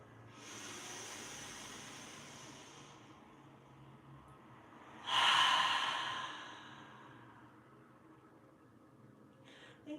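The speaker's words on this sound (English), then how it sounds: "breathing in and out through your nose. And you're going to breathe in slowly, deeply, easily" Slow, deep breaths drawn in and out through the nose during a guided relaxation meditation, a long soft exhale followed by a stronger airy breath, close and alone with no talking.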